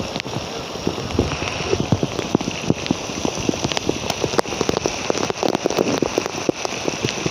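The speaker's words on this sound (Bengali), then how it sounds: "ঢাকা শহর বৃষ্টিতে ভরে গেছে।" Steady downpour over Dhaka streets, with loud, even rain noise and frequent crisp splats of drops landing close by, sustained without a break and no one speaking.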